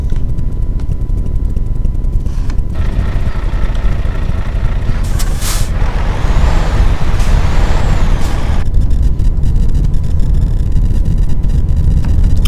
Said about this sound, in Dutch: Laten we eens één keer hard remmen.